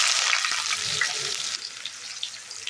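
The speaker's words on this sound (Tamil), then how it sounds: "சோம்பு போட்டு நல்லா பொறிஞ்சு வந்ததுக்கப்புறம் நம்ம வந்து வெங்காயத்தை ஆட் பண்ணிக்கலாம்" Onions frying in sesame oil with fennel seeds in a pan, a steady loud sizzle throughout with faint stirring.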